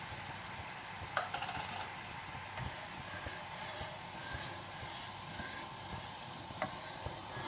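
Ghee-based sweet mixture with saffron-tinted milk sizzling in a pan, a steady soft crackle with a few sharper pops and stirring scrapes throughout.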